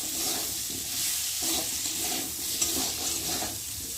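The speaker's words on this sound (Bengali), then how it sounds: "ভালো করে একটু কষিয়ে নেব।" Ginger and tomato sauté in a pan for a pointed gourd korma, a continuous soft sizzle with gentle stirring scrapes, close and steady with no talk.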